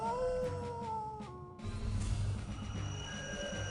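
Dogs howl in the Septerra Core video game: sustained, wavering tonal cries at close range, a few overlapping voices that drop out briefly midway before a louder burst of noisy combat-like sound takes over.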